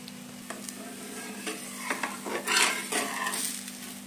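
Chana dosa cooking on a pan with ghee and butter added on top, a soft sizzle under intermittent scraping and clinking of a utensil against the pan, no talk.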